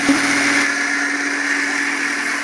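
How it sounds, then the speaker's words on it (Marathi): A mixer grinder runs steadily, grinding soaked lentils for idli batter with a loud, continuous motor hum and whir that holds constant throughout, close by and without any voices. "आता आपण डाळ ही बारीक करून घेऊ"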